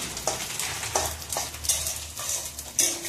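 Simui vermicelli stirred and fried in a pan: a steady soft sizzle runs throughout, with repeated scraping strokes of a spoon against the pan at a loose, regular pace.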